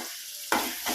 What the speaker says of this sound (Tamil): கருவேப்பிலை போடுறேன்.